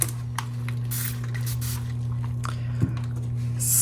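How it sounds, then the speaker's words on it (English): Short bursts of alcohol sprayed from a bottle over resin poured into a snowflake ornament mold, several quick hissing puffs against a steady electrical hum. "Spraying it with alcohol definitely helps."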